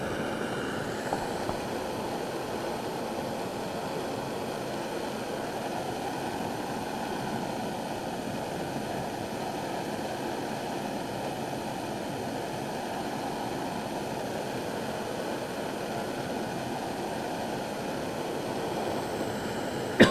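A Taykit pocket stove burning with a steady, unbroken roaring hiss of flame that holds at an even level for about twenty seconds, with no voices.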